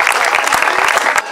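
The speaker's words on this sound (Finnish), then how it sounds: "Hei, vielä kerran aplodit." A crowd claps in a short, loud burst at an outdoor event in Heinola, an open-air show with a chainsaw-carving demonstration.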